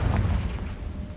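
A Confringo blasting spell explodes in Hogwarts Legacy, one deep rumbling boom that fills the short moment and rolls off without any talk.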